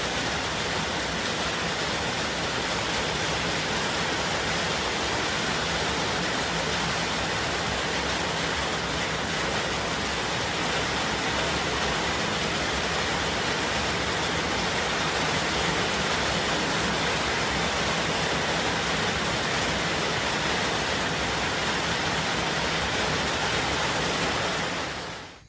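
Heavy rain pours in a dense, unbroken hiss that stays loud and even for about twenty-five seconds before cutting off abruptly, with no voices over it.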